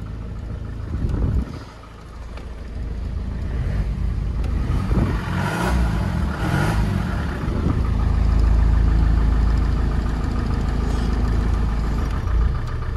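A Ford F1000 pickup truck's Maxion diesel engine runs steadily nearby, idling with a low rumble that swells slightly as it revs.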